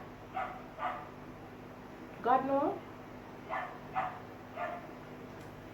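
A dog barks in short, separate bursts: two quick barks, a pause, then three more, moderately close over a faint steady hum, with a person briefly speaking in between.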